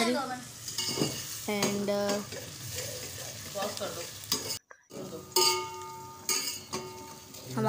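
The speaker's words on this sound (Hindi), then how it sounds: "और जैसे कि मसाला भी भुन रहा है" Masala of spices and chopped green chillies frying and sizzling in a pan for matar pulao, stirred with a utensil that scrapes and clinks against the metal, with a brief break before the sizzle resumes.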